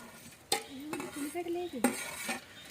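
A metal spoon scrapes and clanks against a pan while chicken curry with garam masala is stirred, a few sharp knocks among soft scraping strokes, close and fairly quiet with no talk.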